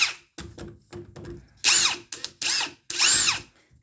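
Ryobi P238 18-volt cordless impact driver running on speed 3, several short whirring bursts that build to longer, louder hammering runs with rapid rattling impacts, close and loud, no talk.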